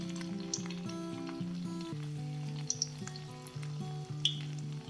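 Chicken mince pakoras deep-frying in hot oil make a soft, steady bubbling sizzle that sits under a louder melodic music track, with a few small pops.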